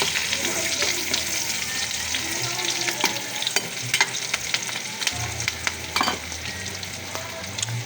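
Previously fried pork fat sautés with garlic and onion in a hot pan, giving a continuous close sizzle broken by frequent spatula scrapes and knocks against the pan, with no talking.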